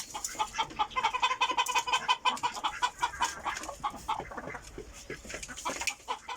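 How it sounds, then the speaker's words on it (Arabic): Fayoumi rooster among its hens, with dense, close clucking and chattering going on throughout. "ها هو هذا هو ديك الفيومي معروف بالخصوبة ديالو بالمناعة ديالو، ها هو مع العشيرة ديالو مع الدجاج"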